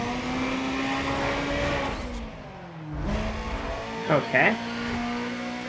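A Honda drag car in the racing game NFS Pro Street accelerates with a loud, rising engine note that drops at a gear change and climbs again, while someone speaks briefly.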